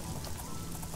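Steady rain in the video game The Elder Scrolls: Oblivion patters and hisses continuously, a dense even wash of droplets with no voices.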